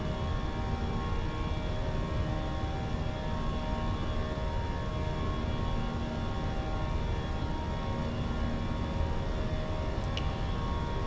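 Airbus A320 of Latam climbing out in Microsoft Flight Simulator 2024, a steady broad engine roar with droning tonal hum holding constant and loud throughout, no voices.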